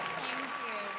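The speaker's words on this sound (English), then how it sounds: "she deserves a round of applause, definitely, definitely so." Pageant audience applause at a beauty competition, a brief burst of many hands clapping heard from a moderate distance, fairly soft and continuous for about a second.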